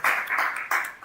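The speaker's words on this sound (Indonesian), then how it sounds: "Tepuk tangan dulu." A brief burst of audience clapping after a group's score is announced at an ecoprint presentation, a few bursts of hand claps close by, fairly loud, with no talking over it.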